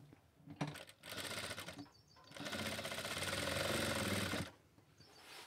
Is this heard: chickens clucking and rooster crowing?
no